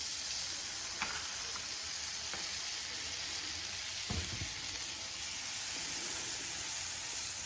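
Margarine sizzles and fries in a hot pan for buttermilk pancakes, a steady broadband hiss with faint scattered pops and a few soft utensil knocks.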